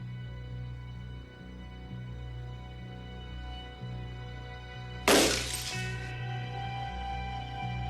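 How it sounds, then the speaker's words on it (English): A sheet of glass shatters abruptly in a 1978 horror movie scene, a sharp loud crash about two thirds of the way in, followed by a brief tinkle of falling shards over a steady low background hum. "this young history teacher is going to try to will this sheet of glass to shatter."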